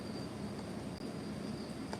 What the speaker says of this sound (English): So it has the night crickets